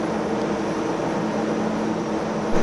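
Steady, loud rotor and engine drone of helicopters overhead at night, a continuous broadband roar with a low hum, no voices.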